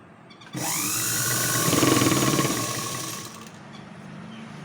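A sewing machine stitches along the folded hem of a skirt: one steady, close motor whir that starts abruptly, runs for about three seconds with a rapid needle clatter, then cuts off, with no talking.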